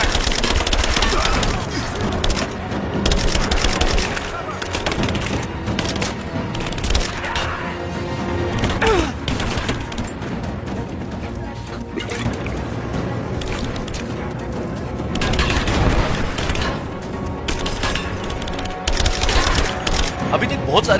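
Video game Rise of the Tomb Raider gunfire appears as repeated loud bursts and single shots, mixed with booms and combat noise, running through a long stretch of fighting, with voices talking over it at times.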